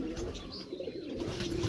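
A pet pigeon in a racer and fancy pigeon setup in Peshawar gives a low, steady cooing over a faint background hiss.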